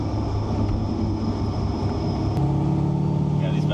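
A supercharged C6 Corvette Z06 making about 750 wheel horsepower drones loudly and steadily with its exhaust valves open, a dense engine roar heard from inside the car.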